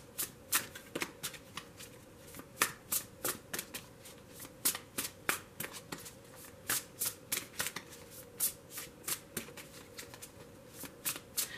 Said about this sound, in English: I just feel like it's really important to shuffle on the camera